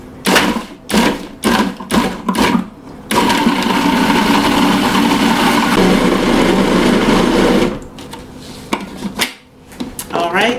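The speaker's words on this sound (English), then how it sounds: "As always with the food processor, I like to start off with a few pulses and then let it go and blend for 30 to 60 seconds." A food processor blending nice cream opens with several short, choppy pulses, then runs as a loud steady whirring grind for about five seconds and ends with a few more rattling bursts.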